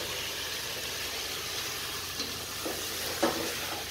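Fried potatoes and eggplant go into sizzling masala for aloo baingan sabzi. A steady, close sizzle fills the pan, broken by a couple of soft thumps and stirring scrapes toward the end, with no talking.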